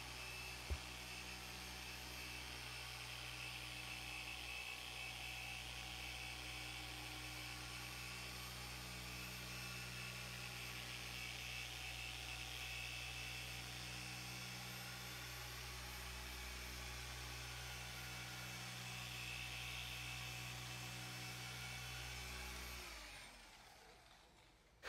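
A car polisher buffs the clear coat of a Corvette with a pad, giving a continuous, even, humming motor drone that runs steadily for over twenty seconds before winding down.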